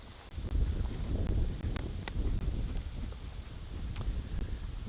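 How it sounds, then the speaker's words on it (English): Strong wind sweeps across a disc golf course at the Australian Disc Golf Championships, a steady low rumble and buffeting on the microphone with a few faint clicks. "just how significantly windy it is down there"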